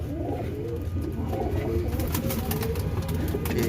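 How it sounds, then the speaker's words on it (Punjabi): Pigeons, including golden pigeons, coo in a steady chorus of soft, rolling calls at a big pigeon market at Data Darbar in Lahore, with the murmur of the crowded market continuing underneath. "ਇਹ ਗੋਲਡਨ ਕਬੂਤਰ ਕਮੱਗਰ ਕਬੂਤਰ"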